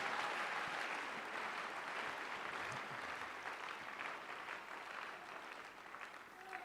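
A crowd at a mass prayer service claps steadily and densely, a continuous wash of applause that holds strong throughout and tapers slightly toward the end.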